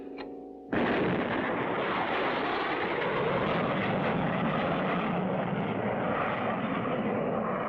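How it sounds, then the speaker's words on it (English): A cartoon rocket blasts off with a sudden roaring burst after a brief tone, then a sustained loud, rumbling engine roar that holds steady to the end. "Blast off!"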